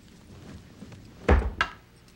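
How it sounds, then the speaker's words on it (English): A door is shut with one solid thunk, followed a moment later by a second softer knock, close by in a quiet home. "Quickly shut the door."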